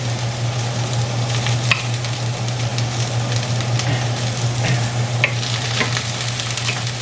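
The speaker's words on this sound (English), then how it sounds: "going to let this cook probably for about 5 minutes until it starts to get soft and a little translucent and brown" Vegetables for a HelloFresh dinner softening in a hot pan, a continuous close sizzle and frying hiss with occasional small stirring clicks, steady throughout, no voices.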